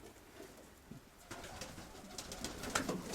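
Pigeons coo faintly in a loft, soft low calls rising under rustling and scattered clicks and flutters that grow busier toward the end.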